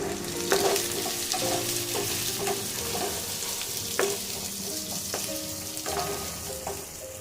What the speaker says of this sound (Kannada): ಬೆಳ್ಳುಳ್ಳಿ ಹಾಕ್ತೀವಿ ಈರುಳ್ಳಿ ಏನು ತೊಗೊಂಡಿದ್ದು ಮೆಣಸುಗಳು ಲವಂಗ ತೊಗೊಂಡಿದ್ದೀನಿ ಸ್ವಲ್ಪ ಫ್ರೈ ಮಾಡೋಣ